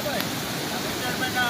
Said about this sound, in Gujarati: આ પાણીની સ્પીડ આપ જોઈ શકો છો. આ બધું પાણી આમ જાય છે.